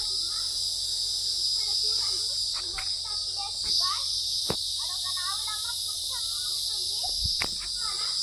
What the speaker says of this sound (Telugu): ఇక్కడైతే చాలా చాలా నాయిస్ వస్తున్నాయి పురుగులు